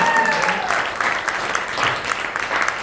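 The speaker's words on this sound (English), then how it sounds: "A round of applause for Danny." Audience applause for a card trick during a magic performance at a golf club event, a steady dense clatter of many hands filling the whole stretch at moderate loudness, with faint voices mixed underneath.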